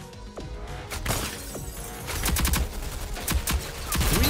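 Rapid bursts of gunfire from the shooter video game Rogue Company crackle in quick repeated volleys, moderately loud with no talking.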